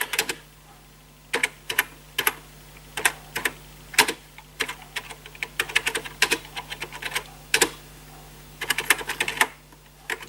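Typing on a Commodore 64 keyboard in a dark room, heard as bursts of sharp, close key clicks. Irregular clusters of taps are separated by short pauses.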